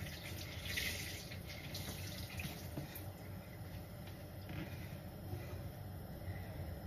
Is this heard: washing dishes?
yes